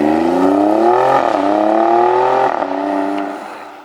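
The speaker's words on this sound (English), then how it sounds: "This thing, I cannot wait to hear it go by." A 2018 Alfa Romeo Stelvio Quadrifoglio SUV engine roars close by, revving up through a gear change, then fades as the vehicle passes and pulls away.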